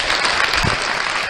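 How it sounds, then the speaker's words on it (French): An audience at a talent show in Guinea gives a brief, loud burst of applause, many hands clapping at once in a dense, steady roar. "Les applaudissements s'il vous plaît, mesdames et messieurs."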